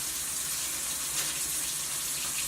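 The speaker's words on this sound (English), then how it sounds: "I'm going to wash my hands before I touch those containers." Tap water runs steadily into a sink as hands are washed in a home kitchen while a beef roast is being prepared, a continuous close hiss of flowing water with no other sounds.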